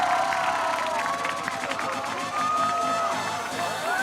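Spectators cheer and whoop at the Seoul 2024 bouldering semi-finals as a climber celebrates on the mats, a dense, steady wall of crowd noise with rising shouts running the whole way through.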